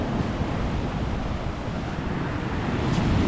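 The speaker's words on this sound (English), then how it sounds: "Oh, there's some waves crashing in." Sea waves breaking on a shore during a sea bass fishing trip, a constant broad roar of surf mixed with wind buffeting the microphone, loud and continuous.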